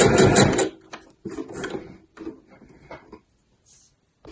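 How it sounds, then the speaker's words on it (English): A sewing machine stitches the tabs onto a weekender bag fabric, running in short bursts of close mechanical whirring, with the longest burst at the start and the runs then stopping and restarting with small gaps before going quiet. "We will just sew along here and stop when I get to that line that I've marked out with my masking tape."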